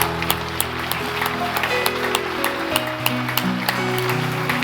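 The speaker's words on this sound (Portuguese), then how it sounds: "Dê uma salva de palmas para Jesus." A church congregation claps during a Portuguese-language worship service, an even patter of hands over sustained organ-like chords and held tones, with occasional sharper claps standing out.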